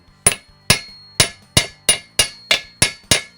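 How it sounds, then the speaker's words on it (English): Nine sharp, evenly spaced metallic hammer strikes, close and loud, driving a seal into a Dana 25 axle housing of a Willys Jeep with a chunk of steel placed between hammer and seal, each ringing briefly. "You simply drive it in until the outer lip is completely flush with the housing."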